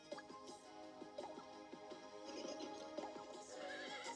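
A horse whinnies repeatedly in a rising, wavering neigh in the video game Miitopia, with hoof clip-clops and game-like background sound running steadily underneath.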